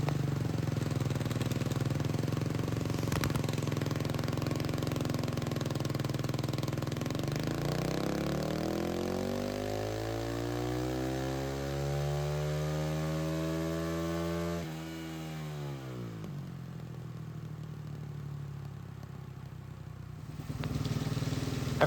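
KTM 450 EXC motorcycle engine running on a dyno in a lower gear at low throttle, its single-cylinder note climbing in pitch through a long sweep, then cutting back near the end over a constant electrical hum.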